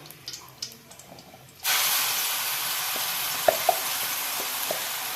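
A spice mixture with cardamom, cinnamon and cloves goes into hot oil for a dhaba-style masala egg curry. Quiet handling gives way to a sudden, loud, steady sizzle with a few sharp pops and stirring clicks.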